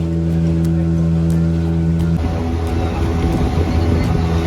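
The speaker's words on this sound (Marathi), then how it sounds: "आम्ही आता त्या बोट बरोबर रेसिंग लावलेली आहे. आता आम्ही ओव्हरटेक करणार आहे त्यांना" Motorboat engines roar loud and steady off the Malvan coast near Devbag beach as one boat races and overtakes another, a droning hum that turns rougher and choppier midway, with wind and spray noise on top.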